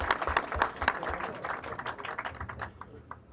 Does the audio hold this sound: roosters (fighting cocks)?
no